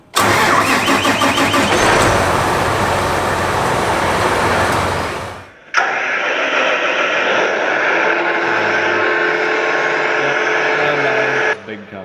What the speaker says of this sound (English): Big combine. John Deere S6,